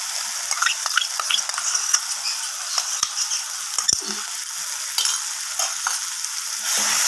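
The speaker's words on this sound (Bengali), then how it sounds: "আমি কাজু বাটাটা দিয়ে এবার ভালোভাবে নাড়িয়ে নিচ্ছি।" Cashew paste is stirred into a frying spice mix for rohu kalia, a steady hissing sizzle with repeated spatula scrapes and taps against the pan, close by.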